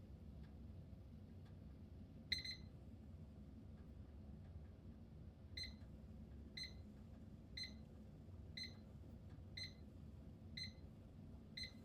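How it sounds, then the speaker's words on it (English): A Visual Timer Color Countdowns classroom timer beeps as it runs down, giving short, faint, evenly spaced electronic bleeps about once a second over a quiet room hum. "the beepy noise that it makes as the timer runs down"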